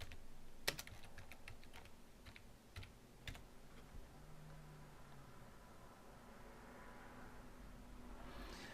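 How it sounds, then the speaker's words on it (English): Someone types on a computer keyboard to enter a search. It makes a short, quiet burst of close key clicks, then a faint steady room hiss. "So let's just type in the search bar here. Let's just type in logo design."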